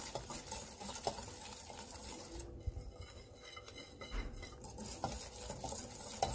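Brioche batter is stirred in a bowl, a steady scraping and clinking of a utensil against the sides with a few sharper knocks, close and continuous with no talking.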